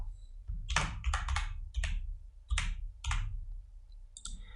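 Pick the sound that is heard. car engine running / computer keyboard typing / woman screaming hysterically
computer keyboard typing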